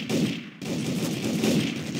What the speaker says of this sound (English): What's up with the shooting that's happening?